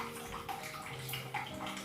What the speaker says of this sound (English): here I made another slit and wash the cabbage in cold water